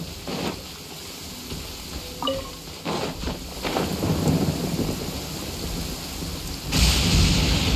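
Rain hisses steadily in the video game Genshin Impact, with low thunder rumbling through and a sharper crack swelling near the end; no talking.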